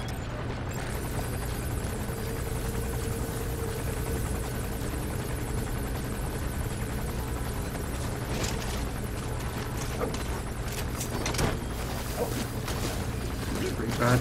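Helicopter from Metal Gear Solid V: The Phantom Pain patrolling for security forces: a steady low rotor drone holds throughout at moderate level, with occasional clanks and bursts of game noise over it.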